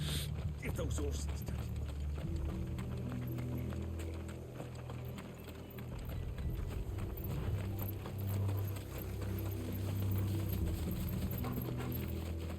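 Horse hooves clip-clop steadily at a walk in Final Fantasy XVI, layered under game music and ambient noise, with a dog's panting faintly mixed in.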